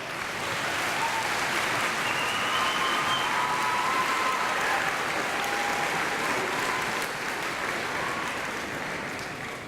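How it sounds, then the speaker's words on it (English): An audience at a school music concert breaks into dense, sustained applause for the performing students, a loud wash of many hands clapping steadily throughout with no voices over it. "Let's give these wonderful students that will be performing a great round of applause as we start"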